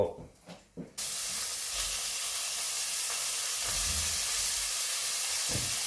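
Steak hitting a really hot pan bursts into a loud, sustained sizzle after a second of quieter sounds, a close, steady hiss of searing meat that holds to the end.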